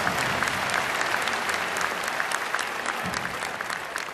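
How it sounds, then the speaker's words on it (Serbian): Sustained, loud applause from a large crowd at a closing political rally in Belgrade, a dense wash of clapping holding steady through the whole stretch with no speech above it. "I hoću jedan veliki aplauz za sve naše penzionere, za njihovu trpeljivost i strpljenje."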